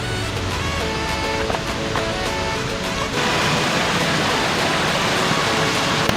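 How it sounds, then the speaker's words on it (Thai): A forest waterfall more than 40 metres high pours strongly: dense, steady rushing water fills the scene and swells to a heavier roar partway through, loud and close, with no clear voices. "โอ้ตรงนี้ไหลมากไหลมาก"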